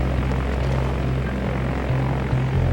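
A de Havilland Twin Otter turboprop arriving in the Northwest Territories, its propeller engines droning loud and steady at close range with a low pulsing hum and no voices.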